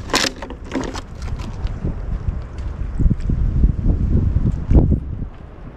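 Strong wind buffets the microphone at Sebastian Inlet, a steady rumbling roar with gusty swells throughout and no talking.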